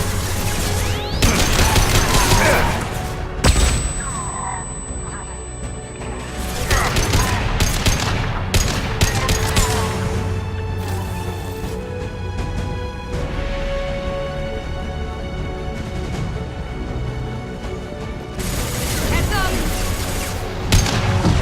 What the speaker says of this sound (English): Watch out, flashbangs!